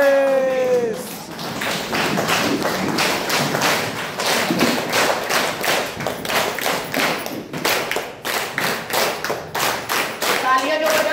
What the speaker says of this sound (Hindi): तो हम लोग खड़े होकर अपने लिए जोरदार ताली बजाएंगे